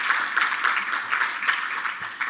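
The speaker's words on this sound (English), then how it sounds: "Let us give GraceKennedy a big round of applause, and Dr. Heather Little-White" An awards ceremony audience gives a round of applause, with steady, bright clapping from many hands sounding close and sustained throughout, and no speech on top.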